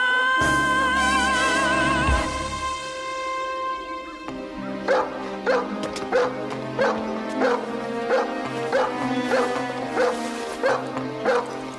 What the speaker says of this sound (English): You don't want to bite me. Good killer dog.